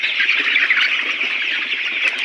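Layer chickens on a poultry farm squawk and cluck in a dense, continuous flock chorus, fairly close and steady throughout, with no talking.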